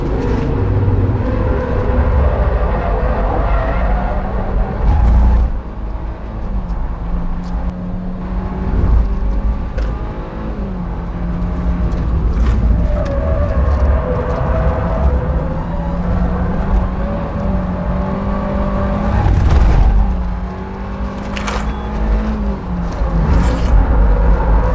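A 2018 Kia K3 engine revs hard while driving, a loud steady drone that swells and eases with rising and falling tones, heard from inside the car with no talking.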